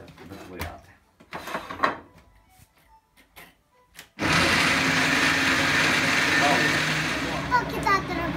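Electric juicer or blender whirs loudly and steadily, making fresh juice from mandarins and bananas, starting abruptly after a stretch of quieter kitchen clatter and continuing to the end.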